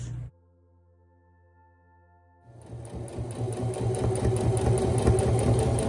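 A sewing machine stitches fabric for van window covers, starting after a short quiet hum and building into a steady, close mechanical whirring with fast rhythmic needle clatter that grows louder throughout.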